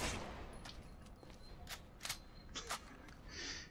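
Scattered gunshots ring out in Resident Evil Revelations 2, several sharp bursts spread irregularly over a few seconds against a steady background hum.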